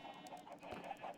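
Minecraft chickens cluck softly in a short run of quick repeated clucks, faint and low in the mix.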